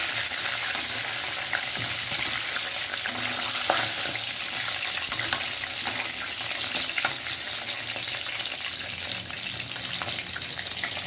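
Surmai fish frying lightly in a pan, a continuous close, even sizzle and crackle of hot oil with occasional small pops, steady throughout without speech.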